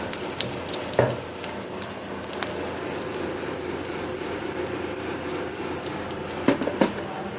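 Dosa batter fries on a hot pan in a home kitchen, a steady soft sizzle with occasional sharp clicks and taps of utensils.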